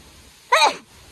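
A single short, sharp sneeze breaks a quiet room, loud and close, lasting about a third of a second.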